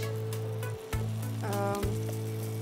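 Onion paste hits hot mustard oil for a prawn malai curry, giving a steady close sizzle with a low hum and a couple of brief dips where the frying sound cuts out and returns.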